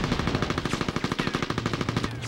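Rapid automatic gunfire rattles in a steady, evenly spaced burst of shots aimed at a Hummer in the PS2 video game Mercenaries, loud and continuous with no talking.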